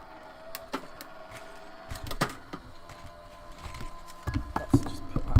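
A die cutting machine for paper crafts cranks material through with uneven mechanical whirring, thumps and clicks, close by and moderately loud, with handling noises in between.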